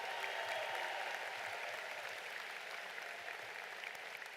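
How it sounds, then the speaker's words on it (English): Applause from a large crowd at a high school graduation ceremony, a continuous, even roar of many hands clapping, heard from a distance and holding steady throughout. "How about a big round of applause for them?"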